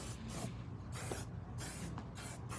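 Motul Shine & Go cleaner sprayed onto lenses in a series of short, close hissing bursts separated by brief pauses.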